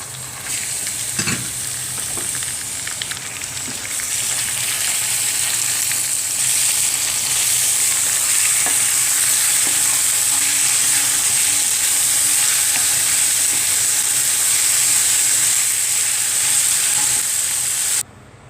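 Minced chicken gizzards fry in a hot pan with a loud, steady sizzle and faint stirring clicks, close up and unbroken until it drops away just before the end.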